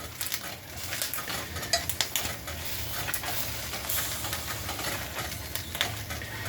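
A chile pepper roasts on a hot pan, a continuous hissing sizzle mixed with frequent short clicks and scrapes as it is turned and pressed down, close and moderately quiet.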